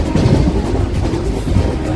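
A train rumbles loudly and continuously at New Delhi railway station, with a close, heavy rolling clatter of rail cars.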